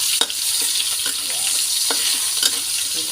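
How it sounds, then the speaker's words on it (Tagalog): Ginger sautéing in leftover oil from frying tilapia, a close, steady sizzle with scattered stirring clicks and scrapes throughout. "Dito sa pinagprituhan natin, lagay natin ang luya."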